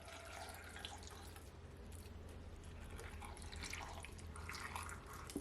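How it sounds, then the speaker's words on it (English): Steady splashing and trickling of spring water being poured into a blender jug, a continuous close liquid stream with faint drips and no talking. "I'm gonna pour some water to it."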